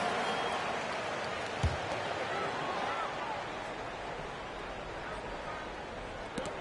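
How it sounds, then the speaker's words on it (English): Broad, dense applause from a large crowd of basketball fans, a steady wash of clapping and cheering that holds for several seconds. "One more big round of applause"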